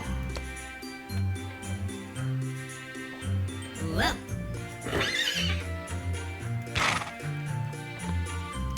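Horse whinnies sound in the video game Swag & Sorcery, several rising neighs over continuous background game music with faint hoof clip-clops.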